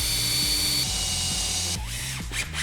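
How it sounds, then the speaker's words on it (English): A power drill bores a clearance hole in a small stop block for a honing guide, giving a close, loud whine with a steady pulsing rhythm that shifts pitch partway through as the bit cuts, then spins down. "Just going to drill a clearance hole in that now"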